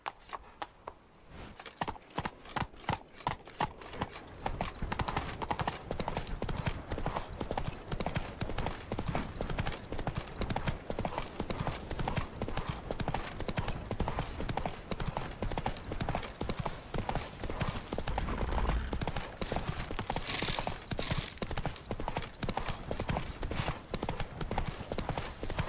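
Horse hooves clip-clop steadily at a gallop in The Witcher 3 video game, a dense, loud, rhythmic pounding that continues throughout, with a brief voice near the start.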